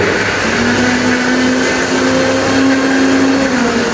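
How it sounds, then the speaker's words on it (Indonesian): An electric blender runs steadily throughout, a loud continuous motor whir with a humming tone shown to a class during a lesson on how energy changes form. "ini benda apa anak-anak? Blender."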